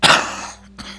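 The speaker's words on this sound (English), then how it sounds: "I have been coughing so much lately" A single harsh cough close to the mic, bursting out sharply and trailing off, followed by a brief rasp of breath.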